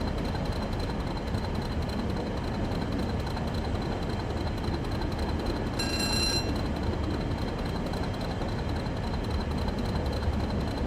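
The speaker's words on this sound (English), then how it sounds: "the sound of the train" A Class 40 'Whistler' diesel locomotive in Train Sim World, running on the West Coast Main Line, gives a steady low rumbling drone with a brief high whistling tone partway through, continuous and even throughout.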